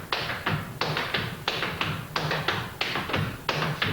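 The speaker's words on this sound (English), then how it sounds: "The 3-sound walking step across in front." Flatfooting dancer's 3-sound walking step crossed in front: steady repeated taps and brushes of shoes on a wooden floor in groups of three, close and fairly loud with no talk.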